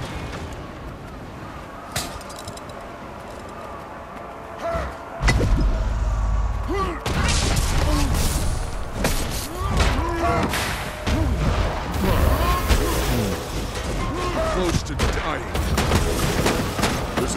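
Video game battle gunfire at Champion's Dusk, with bursts of rifle shots and heavy thuds breaking out after a quieter start, then dense rapid cracks and booms layered over shouted voices and radio-style callouts.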